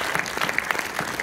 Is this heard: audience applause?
yes